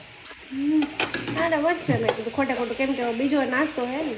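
Puffed rice being stirred in a hot pan after tempering, with steady sizzling and scraping and some squeaky, wavering tones running through the whole stretch.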